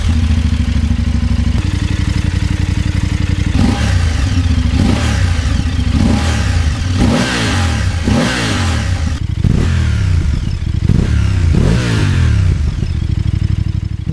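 A BMW F750GS motorcycle's engine and exhaust rev loudly and repeatedly from a steady idle, each blip rising sharply and dropping back in a close, continuous series.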